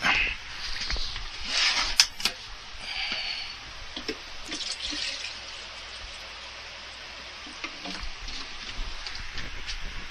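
Soft, steady trickle and splash of water poured from a watering can onto transplanted coffee plants, with occasional louder splashes and clinks, no talking.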